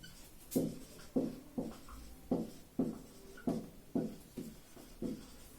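Someone writes out a physics equation in a quiet room, giving a close, rhythmic series of about nine short scratching strokes spaced roughly half a second apart.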